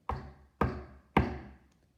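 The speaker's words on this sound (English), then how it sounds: "Just then there was a knock at the door." Three loud, evenly spaced knocks on a wooden door sound close by, each a sharp thud with a short ring, with nothing else in between.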